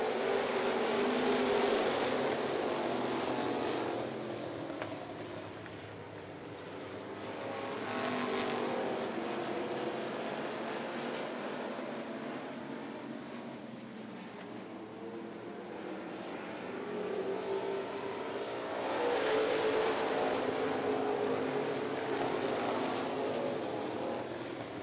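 Race cars roar around Needmore Speedway during an enduro feature, engine noise swelling and fading in waves as the pack passes, loud and continuous without talk.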